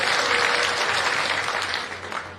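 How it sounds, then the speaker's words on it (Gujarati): Crowd at an outdoor political rally applauding, a loud dense burst of many hands clapping together, steady throughout. "અમને ભાઈ જોરદાર તાળીઓ બજાવો."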